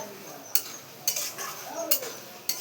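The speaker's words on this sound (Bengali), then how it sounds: "এগুলো একটু কষে নেবো, কষে নিয়ে তারপর মাংস দেবো" Ingredients being sautéed in a pot before meat is added, with a low sizzle beneath a few sharp scrapes and clinks of a spoon against the metal at irregular intervals, close by.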